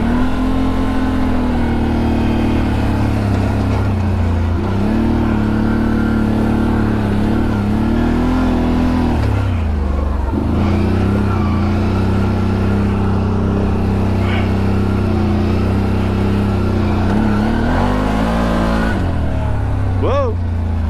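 A CFmoto Cforce 1000 Overland ATV engine runs steadily on a forest trail ride, its low drone rising and falling as the throttle revs, loud and close throughout with a brief dip near the middle.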